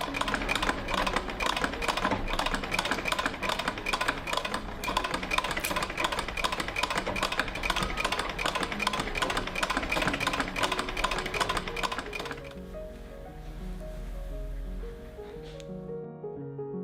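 Sewing machine stitching bias tape into the armhole of an Edwardian flannel blouse, a fast steady mechanical rattle running continuously for about twelve seconds before slowing and stopping.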